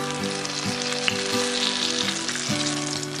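Apple fritters frying in hot oil at around 300 degrees: a loud, dense, continuous sizzle and crackle, with a low steady hum underneath.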